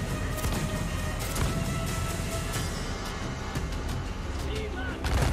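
Ship cannons fire in a naval battle in Assassin's Creed Black Flag, a series of booming blasts layered over a thick, constant rumble of battle noise and score, loud and near.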